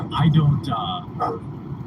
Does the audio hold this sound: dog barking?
yes